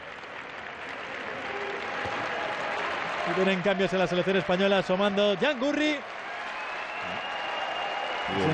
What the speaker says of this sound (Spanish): La ovación